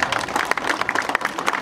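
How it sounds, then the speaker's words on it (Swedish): A crowd at the Biltema Meet 2017 car show claps in a short, lively burst of close, scattered hand claps that runs unbroken for under two seconds. "Stor applåd där."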